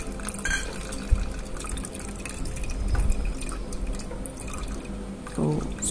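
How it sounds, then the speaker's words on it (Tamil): Dissolved tamarind water for kollu rasam is strained into a bowl, with soft trickling, dripping and splashing close by. Faint clinks and kitchen handling noises sit over the liquid sounds. "கரைச்சிட்டு அதை ஒரு கிண்ணத்தில் வடிகட்டிக்க போகிறேன்"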